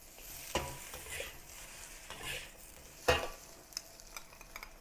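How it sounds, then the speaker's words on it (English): Noodles and vegetables are tossed in a hot wok with soft sizzling and a few sharp metallic clinks and scrapes of a utensil, close and without talk. "add the noodles of your choice to the wok and combine with the vegetables"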